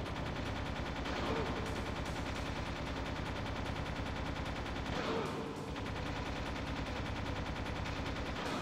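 Continuous rapid machine-gun fire in the video game Metal Gear Solid, dense and unbroken throughout, with a brief dip near the middle.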